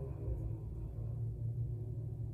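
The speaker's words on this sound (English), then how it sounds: "I don't know if you can hear the traffic in the background." Low, steady rumble of road traffic heard from a sport card expo in Toronto, a continuous deep drone in the background with no talk over it.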